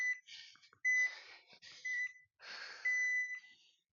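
Interval timer buzzers during a low-impact cardio workout give a few short, fairly quiet electronic tones, mixed with heavy exercise breathing.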